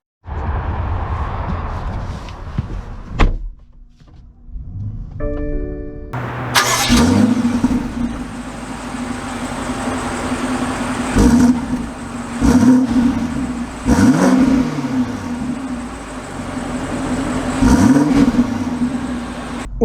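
A 2023 BMW X6 M50i starts up after a few cabin clicks, its engine catching with a loud burst and then settling into a steady idle, followed by several revs as it pulls away, heard from inside.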